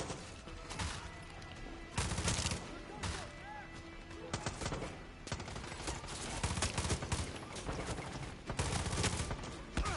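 Gunfire in the video game Far Cry 6, repeated bursts of shots and rapid fusillades layered with loud combat effects, recurring in clusters throughout.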